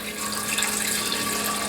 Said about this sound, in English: So we're going to put a bit of water in.